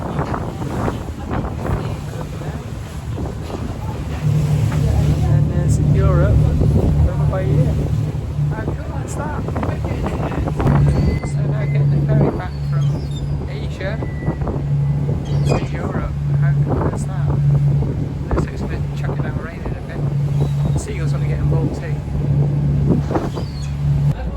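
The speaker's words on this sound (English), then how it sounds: "So I'm on the ferry across the Bosphorus, not quite the Mersey, heading into Asia." Ferry crossing the Bosphorus in Istanbul: a steady low engine hum and rushing wind and water wash fill the deck, continuous and fairly loud, with scattered voices in the background.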